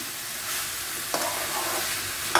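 Pork curry meat stirred and fried in a pan, cooked down dry without potatoes, giving a steady close sizzle with occasional sharp scrapes of a spoon against the pan.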